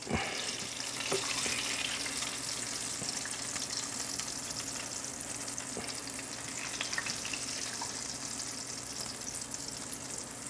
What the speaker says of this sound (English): Got the water boiling over here.